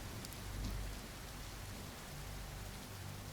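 Steady rain falling, a dense continuous hiss of drops on a surface, fairly soft and even throughout with no other sounds.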